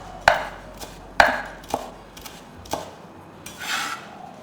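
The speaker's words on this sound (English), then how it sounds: "Chop up the coriander leaves." A kitchen knife chops fresh coriander leaves on a cutting board, giving about six sharp, separate thuds at an uneven pace with soft scraping between strokes, close and moderately quiet, with no talking.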